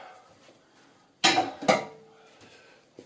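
A pan clanks as it is moved off an AWRoutdoor 3500 watt windproof camping stove, with two sharp metallic clatters close by in an otherwise quiet setting.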